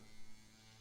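A quiet, steady electric buzz hums for under a second, like a small razor vibrating, faint and with no voices.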